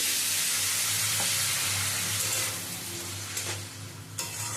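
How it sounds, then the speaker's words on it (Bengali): Spices with turmeric and salt sauté in a hot pan, giving a loud, steady sizzling hiss broken by a few sharp stirring clicks, with no voices. "হলুদ দিয়ে সমস্ত কিছু দিয়ে মিশিয়ে একটু কষিয়ে নেব"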